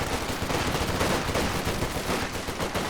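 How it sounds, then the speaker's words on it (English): Sustained automatic gunfire from an MG and other weapons in a Company of Heroes 2 battle, a dense, continuous rattle of overlapping shots that stays loud throughout with no pauses. "MG's just inching its way forwards."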